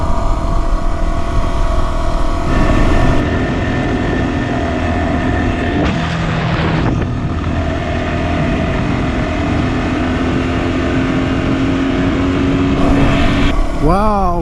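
A Yamaha WR250R dual-sport motorcycle riding a dirt road in a Colorado gulch, its engine droning steadily and loud throughout, with a couple of shifts in pitch and wind buffeting near the end.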